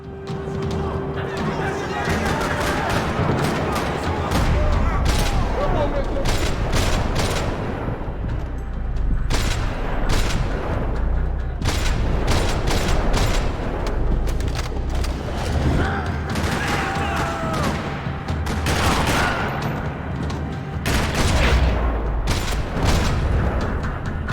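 Rapid bursts of gunfire and booming blasts crackle through a busy, dense mix in a parking lot in the video game Max Payne 3, with voices talking over the shooting throughout.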